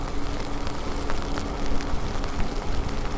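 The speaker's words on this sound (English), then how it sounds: "It's definitely raining." Steady rain falling outdoors on a road trip, a continuous dense hiss of drops spattering on surfaces close by, with no voices over it.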